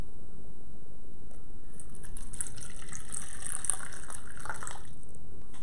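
Water pours in a steady splashing stream into dough for rye focaccia di Recco, close and fairly loud for several seconds with no talking.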